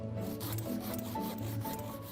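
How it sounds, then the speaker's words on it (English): A knife shaves and rasps along wood, whittling parts for a sweat lodge seat in a chateau garden; steady close scraping strokes with a low background hum, no talking. "Tim just needs to whittle it all together."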